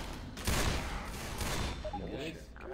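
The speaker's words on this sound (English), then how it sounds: "I'm trying to shoot the charger." Dense, rapid gunfire in Left 4 Dead 2, rattling bursts of shots for a few seconds with game sounds layered over them.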